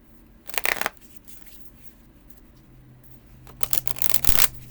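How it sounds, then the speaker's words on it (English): Two short bursts of oracle cards being riffled and shuffled sideways, brief flurries of papery flapping separated by a quieter pause, close by. "You can shuffle sideways like this."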